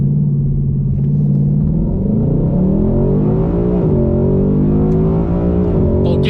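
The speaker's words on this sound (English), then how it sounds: "That is a Terry Haddock burnout." Loud, sustained roar of a drag car doing a burnout by Terry Haddock at a Texas invitational race, with a heavy rumbling engine drone that shifts pitch and revs throughout, close and continuous without talk.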